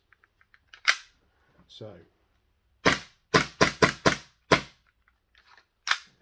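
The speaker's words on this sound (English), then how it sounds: "you load it up with pressure and then it fires" Cybergun Canik TP9 Elite Combat airsoft gas pistol firing 0.2 gram BBs on green gas: sharp, loud snapping shots, one alone, then a quick string of five, then a last one, with faint clicks and a brief spoken word between.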